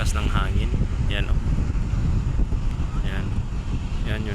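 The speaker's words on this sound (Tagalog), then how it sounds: "medyo maingay dito kasi sa malakas ng hangin" Strong wind at a seawall by the sea buffets the microphone in a constant loud rumble, with a voice speaking intermittently underneath.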